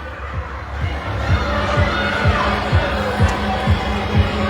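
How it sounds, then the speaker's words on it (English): Spectators at a women's college basketball game between Cochise College and Arizona Western cheer and chatter in a gym, a loud continuous crowd roar with a ball bouncing steadily underneath. "you can hear the crowd behind me getting live"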